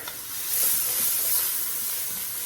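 Chopped onion and celery sizzling in a gumbo pot for chicken and sausage gumbo, a steady bright hiss of frying with faint stirring scrapes and no talking.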